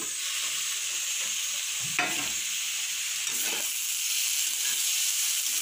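Potatoes frying in oil in a kadai for aloo bhaja, a continuous close sizzle with a scraping stir of a spatula turning them near the start and again midway, while a voice speaks briefly.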